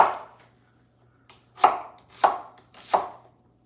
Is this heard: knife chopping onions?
yes